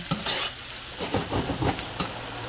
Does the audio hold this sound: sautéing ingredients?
yes